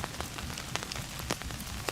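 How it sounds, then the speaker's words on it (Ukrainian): Rain falls steadily near the Lokhansky rapids, a dense hiss of drops with scattered sharper taps and splashes close by, and no voices. "Погода, бачите, дощ."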